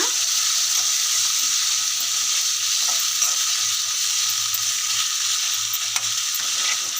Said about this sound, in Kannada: ಗಿರು ಪೇಸ್ಟ್ ಹಾಕ್ತಾ ಇದ್ದೀನಿ ಚೆನ್ನಾಗಿ ಫ್ರೈ ಮಾಡೋಣ